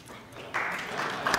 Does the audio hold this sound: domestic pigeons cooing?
no